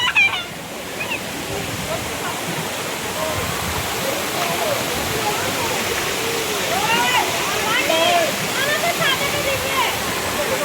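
Chhange Waterfall pours down with a loud, continuous roar of rushing water close by, while several people talk and call out over it.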